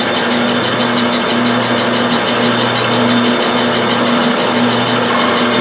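A metal lathe makes a facing cut on a part for a fly-tying vise, a steady motor drone with a rough cutting texture and a pulsing tone, with no voices.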